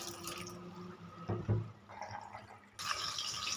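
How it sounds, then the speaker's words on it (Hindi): Cold water poured over freshly boiled macaroni in a kitchen, heard as a short close splash and gurgle of liquid amid faint drips and background clatter, with no one speaking. "अब इसके ऊपर से मैं ठंडा पानी डाल दूँगी ताकि ये आपस में जुड़े नहीं।"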